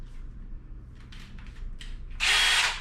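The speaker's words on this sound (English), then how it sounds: "I'm gonna drill with a wood bit into the head of it" A drill with a wood bit whirs loudly in one steady burst near the end, after a few quieter clicks and scrapes.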